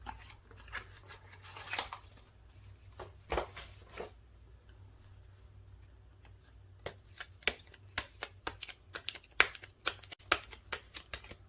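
Tarot cards shuffled by hand in a quiet room, a soft riffling rustle early on, then a run of crisp separate snaps and taps as single cards are drawn and laid down, close and fairly faint.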